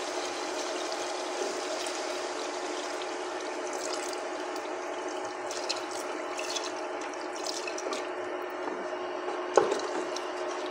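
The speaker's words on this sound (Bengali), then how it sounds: "একটু পানি দেওয়া হচ্ছে।" Water is poured into duck curry cooking in a pan, giving a steady, continuous trickling wash that holds evenly throughout at moderate volume, with no talking.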